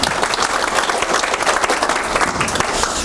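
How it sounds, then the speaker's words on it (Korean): An audience at a forum presentation bursts into dense, steady applause, many hands clapping close and loud throughout with no speech over it. "박수 한번 주시면 좋습니다."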